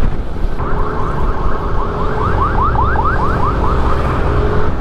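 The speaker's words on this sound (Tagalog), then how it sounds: "Sobrang daming ambulansya nagwawangwang." Ambulance sirens wail in a rapid, repeating rising yelp that carries steadily above loud, rumbling road and traffic noise.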